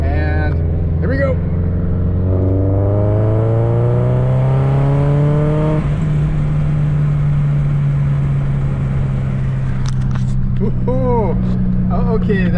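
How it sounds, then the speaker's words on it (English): Car with an electric supercharger accelerating, its engine note climbing steadily in pitch, loud and close, with a rising whine layered over the drone; brief voices break in near the start and end. "that really wasn't that great acceleration, but you can see that it produced boost"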